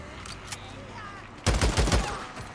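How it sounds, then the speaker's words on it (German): Burst of automatic machine gun fire in the Days Gone video game, a loud, dense rattle of shots lasting about a second, coming in after a quieter stretch of game ambience. "Ja, Maschinengewehr ist sackenpraktisch."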